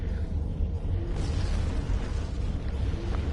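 An enemy starship explosion in a Star Trek video game rumbles as a dense, continuous low roar with a brief swelling burst partway through, loud and sustained.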